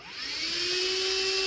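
A small HOTOR corded car vacuum cleaner whirs up to speed and settles into a steady, high-pitched motor whine with a loud airy rush, close by.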